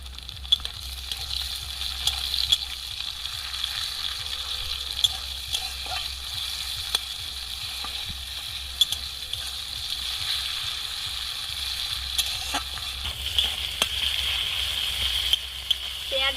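Green chillies and tomatoes sizzle steadily in a hot pan for a mid-length stretch, with occasional stirring clinks and scrapes over a constant frying hiss, and no talking.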